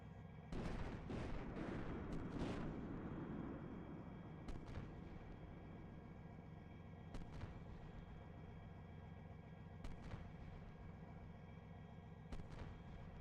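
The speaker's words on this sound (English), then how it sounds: "Six is firing mortars on a hill 2 clicks north of us, unknown why." Mortar fire on a hill two kilometres off in the tank simulator Steel Beasts Pro PE: a cluster of muffled booms rumbles early, then a few isolated distant thuds punctuate a steady low engine drone.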